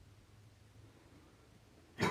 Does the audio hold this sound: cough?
yes